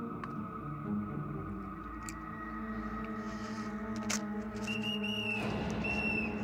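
A militia police whistle shrills in short high blasts toward the end, over a steady, droning musical backdrop.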